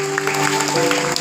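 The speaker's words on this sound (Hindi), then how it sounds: "ताली बजाएंगे।" A church congregation claps hands together during worship, a short stretch of scattered, fairly close clapping over a sustained tonal hum.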